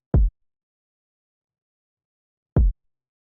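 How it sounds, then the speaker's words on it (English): Two punchy, deep kick drum hits, the second about two and a half seconds after the first, each short and isolated in silence. "So the first thing I have is the kick drum."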